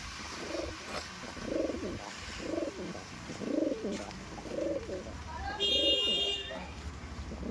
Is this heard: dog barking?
no